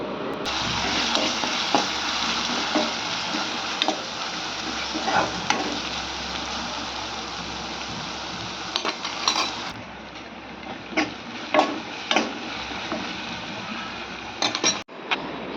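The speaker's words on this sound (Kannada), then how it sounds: "ಮೆಣ್ಸಿನ್ಕಾಯಿ ಈಗ ಎಣ್ಣೆಗೆ ಹಾಕಿದ್ದೀನಿ ನೋಡಿರಿ ಖಾರ ಇದರೊಳಗೆ ಸ್ವಲ್ಪ ಫ್ರೈ ಆಗ್ಲಕ್ಕೆ ಬಿಡ್ತೀನಿ" Green chillies fry in hot oil with a continuous bright sizzle and crackle, close by, with scattered stirring clicks growing more frequent toward the end; no voices.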